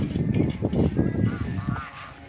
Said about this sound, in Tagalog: Damo bibe, pato.